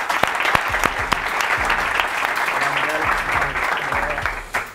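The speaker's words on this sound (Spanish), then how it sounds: "Por favor, un fuerte aplauso para él." A studio audience on a basketball talk show breaks into brief, lively applause, with a few voices and low musical tones mixed underneath.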